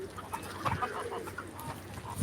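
Chickens clucking at a feeding spot where ducks and pigeons also gather, a busy run of overlapping soft clucks and low calls at moderate distance.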